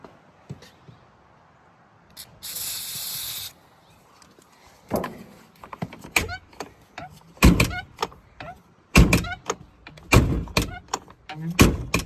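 A Polaris Ranger 1000 XP utility vehicle door is opened and shut several times, with creaking hinge squeaks and solid clunks in an irregular rhythm, close by.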